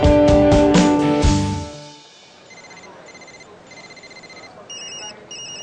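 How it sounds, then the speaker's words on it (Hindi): Telephones ring in a busy building: a loud tonal chime first, then repeated electronic ringing bursts in the background at lower volume. "फोन बज रहे थे"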